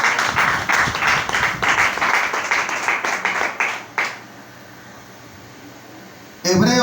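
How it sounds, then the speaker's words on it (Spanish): Congregation applause in a Spanish-language church service: loud, steady clapping from many hands for about four seconds, then it stops, leaving a quiet room hush before a brief noise at the end. "Bríndele un fuerte aplauso al Señor."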